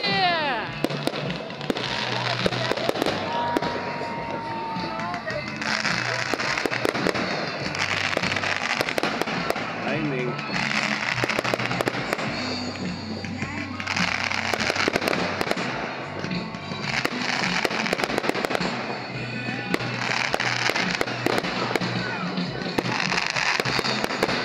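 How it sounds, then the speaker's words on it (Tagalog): New Year's fireworks burst and crackle in repeated loud volleys, with sharp bangs and sputtering crackles layered over a murmuring crowd and voices. "Nandun yung fireworks"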